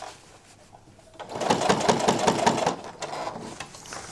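Sewing machine starting up after a quiet second, then running in a fast rapid rhythmic stitching clatter at moderate level, briefly easing and continuing near the end.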